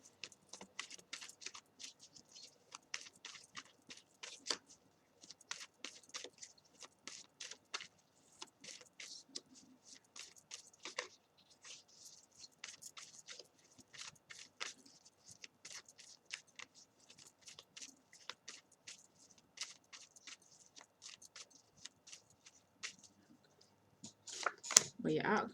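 A deck of tarot cards is shuffled continuously by hand, giving dense, rapid riffling and slapping flurries that run throughout, close and fairly quiet, with a louder burst of handling at the very end.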